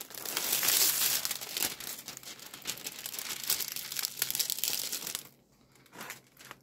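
Plastic film crinkles and rustles over a diamond painting canvas, a steady close-up crackling that runs for several seconds, then drops off to near quiet near the end.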